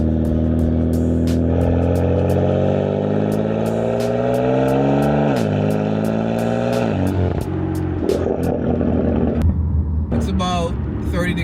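A BMW M4 Competition with a Dinan free-flow axle-back, essentially straight-piped with muffler valves retained, in Sport Plus mode, revs up loudly close by with a rising, sweeping engine note that settles into a rumbling idle with sharp crackles.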